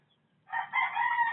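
A rooster crows once, a short, fairly faint crow that starts after a brief quiet moment and carries on to the end, with no talking over it.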